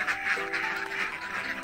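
Laying ducks on a duck farm quack steadily in a continuous flock chorus, close and moderately loud, with no talking.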